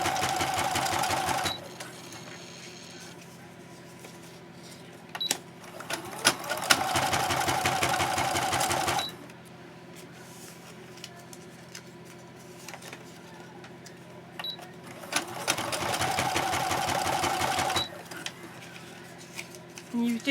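A sewing machine stitches a paper matchbook in three separate runs, each a steady rapid needle chatter lasting a few seconds, with quieter room noise between the runs.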